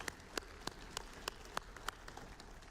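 Rhythmic unison clapping from a church congregation, distinct regular claps roughly every third of a second over a soft wash of scattered applause, fairly distant and quiet.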